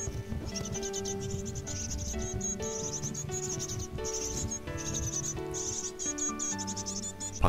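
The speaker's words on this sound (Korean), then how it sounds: "굴뚝에서 자그만하게 새소리가 들려옵니다." Coal tit chicks call from inside a chimney at a palace garden, a continuous thin, high chittering of many small begging voices, faint and muffled, with no talk.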